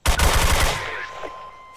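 A burst of fully automatic fire from an AUG A3 rifle in the M9K weapon pack for a video game: rapid, loud, evenly spaced shots for about three quarters of a second, then a ringing decay, with no talking.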